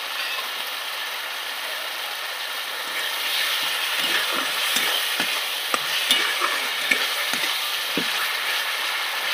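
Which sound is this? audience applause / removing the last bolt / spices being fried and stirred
spices being fried and stirred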